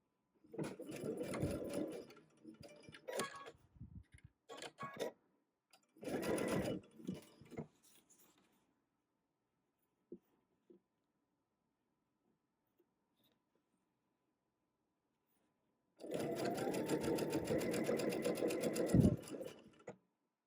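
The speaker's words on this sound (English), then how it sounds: "Okay, now I'm going to go ahead and sew, flip left to right." A sewing machine stitches quilt fabric for a butterfly quilt block in close, loud bursts: a few short runs early, a long pause with faint handling clicks, then a sustained steady run near the end.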